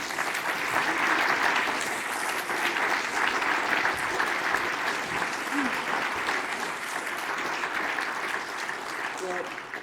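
A large audience claps steadily and loudly in welcome for a speaker, a dense sustained wash of applause with faint crowd murmur throughout.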